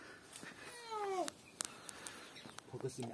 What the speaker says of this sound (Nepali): कस्तो कालो बिरालो हो यो त